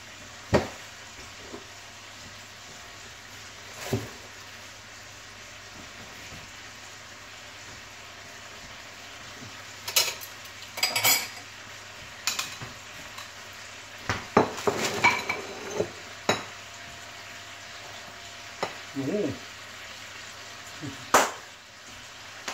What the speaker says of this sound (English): Just cook the bacon first.